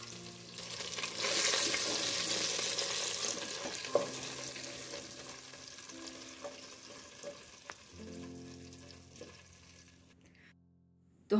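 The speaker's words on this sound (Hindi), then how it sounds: "इसको भी 3 मिनट करके दोनों साइड से अच्छे से फ्राई कर लेंगे" Chicken pieces frying in oil in a pan for a Kashmiri chicken masala, a continuous close crackling sizzle with occasional clinks, fading toward a quieter tail with a low hum underneath.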